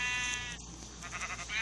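A sheep on a farm lets out a long, wavering bleat at moderate distance, then quieter bleats follow under faint farmyard ambience.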